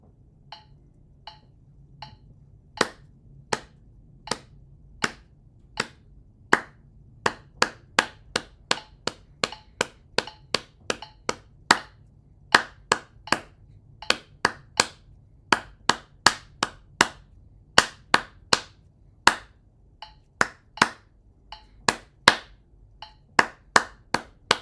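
Hands clap a steady rhythm in 2/4 meter after four sparse opening clicks, sharp and close. Each clap is a distinct crack, spaced evenly and heard alone.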